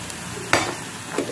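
Spoon stirring spices into potato filling for bread pakora in a hot pan, with a soft scrape, two brief clinks and a low sizzle underneath, close and short.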